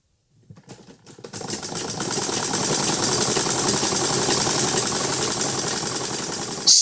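Sewing machine stitching fabric, starting with a few hesitant taps, then running as a fast steady mechanical chatter of needle strokes that holds close and loud before stopping.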